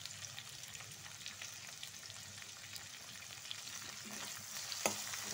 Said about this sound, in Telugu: ఒక 5 మినిట్స్ ఆయిల్లో ఆలుని ఉడకనివ్వాలి.